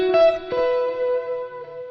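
Guitar played through a Line 6 Helix with an amp-in-the-room tone effect: two picked, sustained chords ring out with a roomy, reverberant bloom and slight distortion, loud and close with no talking.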